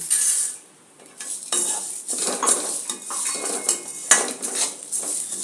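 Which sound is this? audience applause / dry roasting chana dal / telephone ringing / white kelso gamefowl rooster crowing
dry roasting chana dal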